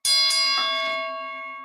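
A bell sound effect rings once during a podcast, a bright metallic strike that sustains with a long, slowly fading shimmering tone, loud and clear with no voices.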